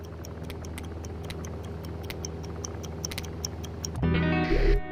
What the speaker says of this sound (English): Ha, the old ticking bomb.